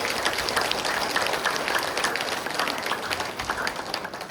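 An audience at a spiritual talk on a clean and healthy society claps loudly and continuously, a dense wash of hand claps that holds steady and fades slightly toward the end.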